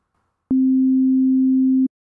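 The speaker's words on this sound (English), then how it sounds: "A sine wave." A pure sine wave tone sounds alone, loud and perfectly steady for about a second and a half, starting and stopping abruptly with a faint click at each edge.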